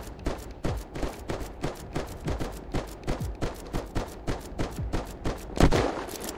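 Rapid Timberwolf rifle gunfire in the video game Unturned, a steady run of roughly two dozen sharp, evenly spaced shots with a louder blast near the end, close and with no talk over it.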